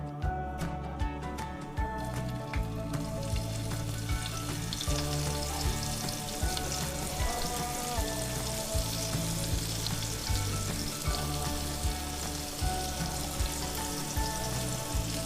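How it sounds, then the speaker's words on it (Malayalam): Fish frying on a high flame in hot coconut oil until crisp, giving a loud, steady sizzle that fills the whole stretch, with rhythmic music underneath and no talking. "നല്ല ഫ്ലെയിമിൽ ഇത് നല്ല കറുമുറ വറുത്ത് കിട്ടണം"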